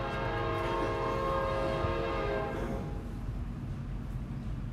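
A train rolls past with its horn blaring loudly in sustained tones for a few seconds before cutting off, leaving the heavy rumble of wheels and railcars continuing steadily.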